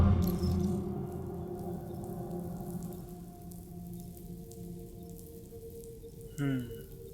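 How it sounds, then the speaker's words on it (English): Rain patters steadily in Death Stranding 2: On The Beach, a soft continuous wash under a low ambient drone, with a brief tonal game sound near the end. "Those raindrops are falling on my head. They keep falling."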